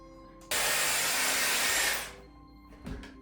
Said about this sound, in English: that's me done with drying my hair